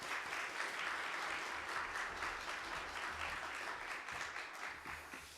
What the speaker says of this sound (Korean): 우리 박수하로 이렇게 선교사님 환영하겠습니다